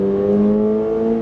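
A 2025 Toyota GR86 Hakone engine at full throttle, a loud, steady, tonal drone that holds at high revs on track, heard from inside the car with no pauses.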